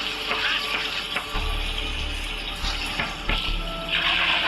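Water splashing and trickling steadily, poured onto plants, with a few brief knocks and clatters on top and no talking.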